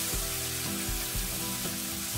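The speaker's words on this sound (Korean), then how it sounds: "중약불에 새우가 노릇한 색이 될 때까지 볶아주세요" Shrimp stir-fry over medium-low heat with a soft, continuous sizzle and low thumping knocks of a spatula at roughly half-second intervals, close and steady, no talking.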